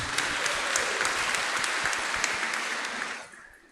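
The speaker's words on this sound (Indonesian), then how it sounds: "Tapi kita tepuk tangan dulu buat Bapak Mang Ujen Ababan." An audience at a Batak cultural seminar claps in a dense, steady burst of applause that carries on evenly before fading out toward the end.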